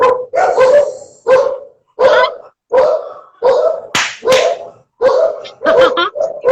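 A small pet dog barks in a rapid series of about a dozen sharp, loud, close yaps with brief gaps between them, heard on its own with no talking over it.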